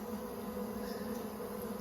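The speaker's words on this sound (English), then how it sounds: "There's a good amount of bees around her," Honey bees buzz softly around an introduced, instrumentally inseminated breeder queen at an open hive, a faint, steady, continuous hum with no voices.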